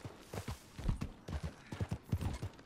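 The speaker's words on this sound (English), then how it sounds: "Right about here I called the horse, I think" Horse hooves clip-clop steadily in a video game, a close, rhythmic run of hollow knocking steps in quick pairs, heard alone without talk.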